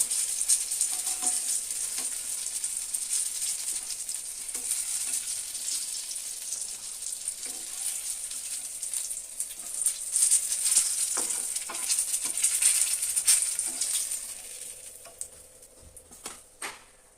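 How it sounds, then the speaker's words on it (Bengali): Eggplant slices fry in hot oil in a home kitchen, giving a steady bright sizzle with scattered pops and spatters that fades toward the end as the pan quiets. "বেগুনটা আমার ভাজা হয়ে গেছে, এবার তুলে নেব।"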